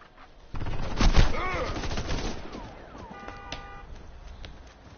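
Rifle gunfire in a video game: a sharp burst of loud shots early on, followed by ringing, siren-like electronic tones and mechanical clatter fading into a quieter tail.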